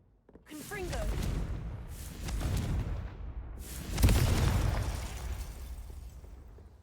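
Confringo fire spell in the game Hogwarts Legacy: several rumbling fiery bursts roll one after another, the loudest boom landing near the end before a decaying roar, with a voice speaking around the blasts.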